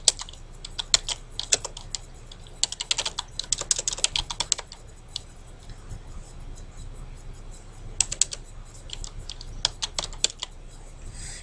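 Keys clatter in quick irregular bursts on a computer keyboard, bunched runs of taps with brief pauses between, close and moderately quiet over a low room hum.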